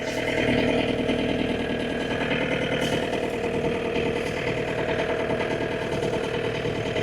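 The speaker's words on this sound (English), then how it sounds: "It feels so weird driving the tractor without anything on the front." A John Deere tractor engine runs steadily at a low, chugging idle, loud and close, with a constant rumbling throb and no voices.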